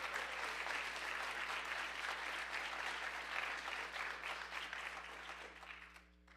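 Audience applause at a City of Middletown council meeting: dense, sustained clapping from a roomful of people, steady and fairly close, tapering off at the very end.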